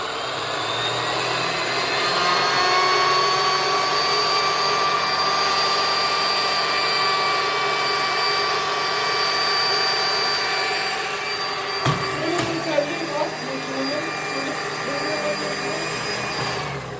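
An Arnica Tesla Premium vacuum cleaner runs steadily with a high whine, then a click near the end as it begins to wind down.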